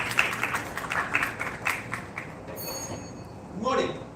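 Scattered clapping from an audience at an oratory contest welcoming a contestant, uneven and moderate, with a brief ringing tone and a voice starting near the end.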